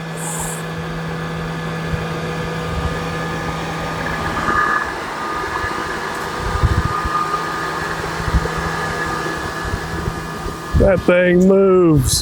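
Lymow One tracked robot mower driven manually at full speed with its blades spinning at 5,000 RPM, a steady whirring drone running throughout with a sharp rise near the end, while a person talks over it.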